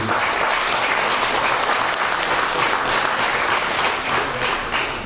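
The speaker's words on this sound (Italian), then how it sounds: "Un grandissimo applauso a tutti." Sustained, loud applause from a large audience at a corporate product presentation in Dubai, dense and steady throughout without any voices over it.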